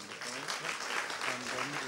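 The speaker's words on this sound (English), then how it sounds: "applause should be given to our facilitators who have done a fantastic job" Faint, steady applause from a group session thanking its facilitators, an even patter of hands with voices murmuring underneath.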